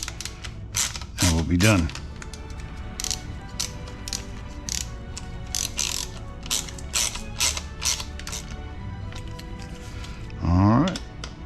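A ratchet clicks in fast bursts of short strokes while bolts are tightened on a Procircuit 296 motorcycle exhaust. Close-up throughout, with brief speech partway through and a creaking whir twice.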